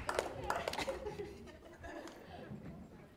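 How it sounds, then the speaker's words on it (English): A small audience claps in a scattered burst at a late-night comedy show, strongest at first and then thinning out, with chatter and light laughter mixed in. "Keep clapping until I get off the stage, please."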